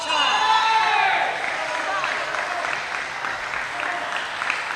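Crowd applause at a Major League Table Tennis match in Raleigh, North Carolina, following an ace, with a brief burst of cheering at the start and then steady clapping from an arena audience under a commentator's voice.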